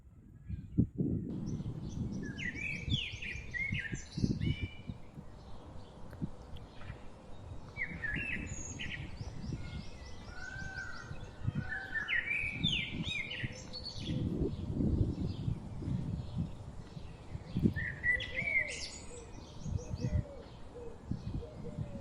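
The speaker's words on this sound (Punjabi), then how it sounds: "ਤੁਸੀਂ ਇੱਕ ਵਾਰ ਇੱਥੋਂ ਦੇ ਪੰਛੀਆਂ ਦੀ ਤੇ ਕੁਦਰਤ ਦੀ ਇੱਕ ਵਾਰ ਆਵਾਜ਼ ਸੁਣੋ" Birds chirp and sing in varied bursts in the woods beyond Sukhna Lake, over a steady low rumble of outdoor ambience, with calls scattered throughout and no one speaking.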